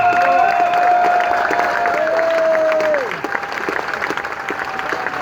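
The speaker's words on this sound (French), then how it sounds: "On peut l'applaudir." A crowd at a Paris demonstration outside the National Assembly applauds and cheers loudly, with a sustained whistle or tonal sound over the clapping that thins out after a few seconds.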